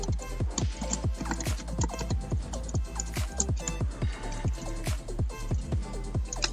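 Steady, rapid keystrokes on a computer keyboard while entering queries in MySQL Workbench, close and clear, in an uneven run of clicks with no talking.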